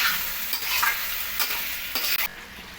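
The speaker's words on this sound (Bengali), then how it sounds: "যে আলুগুলো ভেজে রেখেছিলাম সেই ভাজা আলুগুলো দিয়ে দিলাম এবারে সবগুলো একসঙ্গে মিক্সিং করে খুব সুন্দরভাবে মাংসটাকে কষবো" Mutton and fried potatoes sizzle loudly in an iron wok under close, repeated scraping stirring strokes, a steady frying hiss carrying throughout with no voices.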